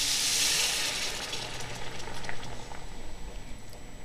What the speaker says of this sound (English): So I'm going to add my stock.